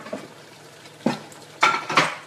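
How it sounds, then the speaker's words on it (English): A frying pan is pulled out in a home kitchen, with a few sharp metallic clanks and clatters of cookware spaced over a couple of seconds and no talking. "Let me get the other frying pan out"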